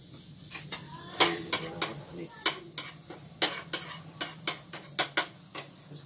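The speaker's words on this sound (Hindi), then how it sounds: "अब इसमें हम डालेंगे थोड़ी सी ग्रीन गार्लिक।" A spatula stirs green garlic through butter in a pan, making a steady run of sharp metallic clinks and scrapes roughly every half second over a faint, continuous sizzle.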